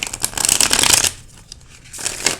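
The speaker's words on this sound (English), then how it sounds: "I'll go ahead and shuffle." Tarot card deck being shuffled by hand, a loud close riffling burst for about a second, then a quiet pause and a shorter second riffle.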